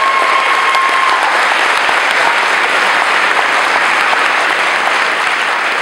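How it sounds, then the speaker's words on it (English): A large audience at a university variety show awards ceremony gives a loud, steady round of applause, dense clapping filling the whole stretch without letup. "So let's give them all a round of applause"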